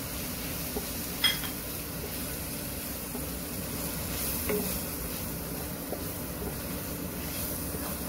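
Ground dry coconut is stirred into drumstick leaves frying in a pan, making a steady close sizzle with soft scraping and a sharp knock of the spoon early on.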